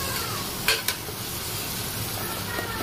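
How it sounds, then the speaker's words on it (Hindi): Spices cooking in oil in a pan for matar chaat, a steady soft sizzle with two quick clinks of a spoon stirring against the pan near the start. "मसालों को 2 मिनट के लिए पकाएंगे जब तक इससे ऑयल ना निकल जाए"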